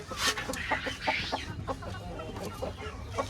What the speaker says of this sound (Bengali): এরপর এদিকে আছে আমার বিনি জুটির মোরগ, ও মোল্টিংয়ে আছে।